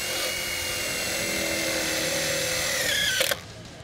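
Makita DTD171 cordless impact driver in T1 mode driving a long self-tapping screw, a steady loud high-pitched whirring hammer that rises slightly in pitch before stopping abruptly.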